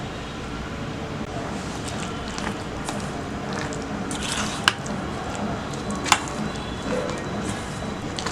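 Wet squishing and stirring as chicken breast pieces are mixed with cornflour and marinade for a Chicken 65, a steady close sticky churn with a couple of sharp clicks against the bowl.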